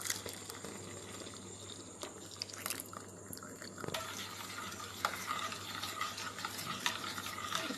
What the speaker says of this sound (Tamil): பாலை நான் இதில் ஊற்றுறேன்.